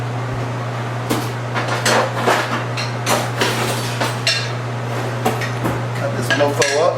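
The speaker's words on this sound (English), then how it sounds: "Let's cut all the leaves up." A knife chops salad leaves for a seafood salad on a board, giving irregular, close knocks and taps scattered over a steady low electrical hum, with some kitchen clatter and brief speech between cuts.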